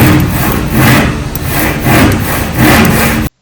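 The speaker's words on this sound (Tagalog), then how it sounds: "Tips para sa paglalagari ng plywood, nararapat itong sampahan para mas madali itong lagariin" A hand saw cutting through plywood while building an office cubicle or study table, with loud, close, rhythmic back-and-forth strokes in several repeated pulls before stopping abruptly.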